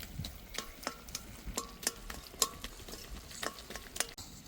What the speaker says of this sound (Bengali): একটু খুন্তি দিয়ে ঘেঁটে দিলেই হবে।